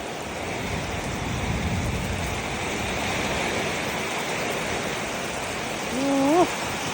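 Steady rain pours down with a broad, continuous hiss, close and unbroken, in Ban Nong Saeng, Buntharik district, Ubon Ratchathani, Thailand, with a brief rising whine near the end.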